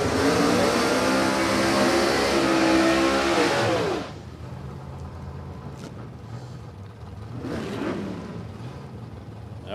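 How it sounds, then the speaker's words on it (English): Drag racing burnout by a Falcon Sprint fitted with wheelie bars at a Warwick Dragfest radial shootout: a loud, sustained high-revving engine roar with tyre spin for about four seconds, then dropping to a lower idle rumble with a brief rev later. "nice strong burn out for Sugars. He's in this Falcon Sprint."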